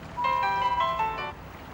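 A mobile phone rings with a short melodic electronic ringtone, one burst of a little over a second, fairly clear over a quiet room.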